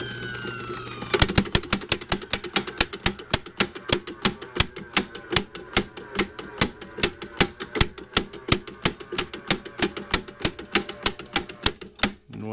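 Rapid, regular mechanical clicking snaps over and over at a steady rhythm, sharp metallic ticks from a hand-start tractor magneto tripping as it is turned slowly, close and loud.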